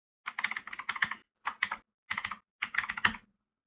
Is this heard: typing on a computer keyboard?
yes